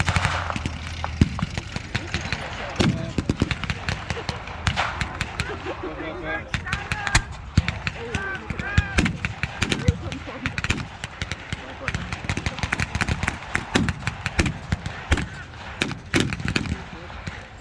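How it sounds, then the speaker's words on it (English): Battle re-enactment with German half-tracks, one carrying a large anti-tank gun firing on Allied forces: repeated sharp gunshot cracks and bangs scattered irregularly over engine rumble, with a voice talking throughout amid the gunfire. "one of them carrying a big pack gun which is firing on the Allies"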